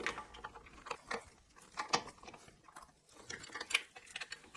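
Original foot peg parts are being taken off a Honda CB400 motorcycle, giving faint, close metallic clicks, ratcheting and small clanks in irregular bursts.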